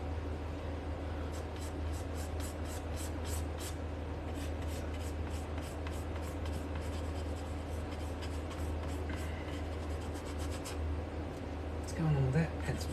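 Pencil strokes scratch across paper in quick, repeated bursts while a drawing is shaded, close and steady over a faint room hum, with a person speaking briefly near the end.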